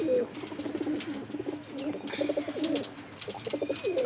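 Red Chini breed pigeons cooing in soft, repeated throaty calls close by, with occasional faint chirps and light background rustle.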